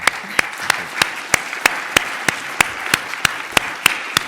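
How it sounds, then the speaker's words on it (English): Audience applause for a panel at the CES 2020 technology conference: a steady bed of crowd clapping runs throughout, punctuated by loud, evenly spaced individual claps close by, with no talking. "can we get a quick round of applause for this panel?"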